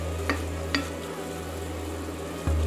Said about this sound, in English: We'll now make a roux. Just cook out this flour